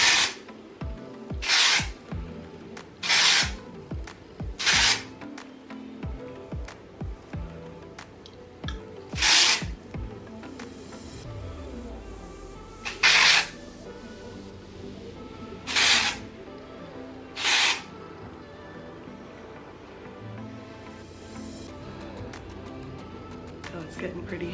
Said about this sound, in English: Now I'm gonna go back with the dry shampoo and spray this all over.